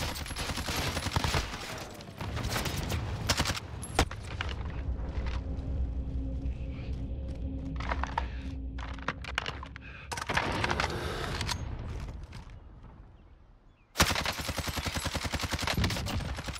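Galil rifle gunfire in the shooter game Warzone, with long rapid automatic bursts crackling loud and dense, broken by short quiet gaps and a final sustained burst.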